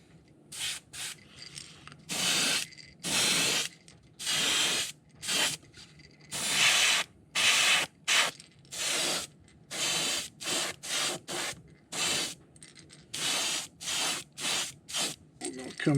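Airbrush spraying a coat of paint onto a fishing lure, a series of close, loud hissing bursts in short and longer pulses separated by brief pauses, with low faint background noise and no speech.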